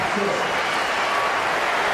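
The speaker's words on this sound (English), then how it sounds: "What an ovation he'll get." A cricket crowd at a one-day international between Australia and England applauds a batsman in a sustained ovation, dense and even clapping filling the ground, with a commentator's voice over it.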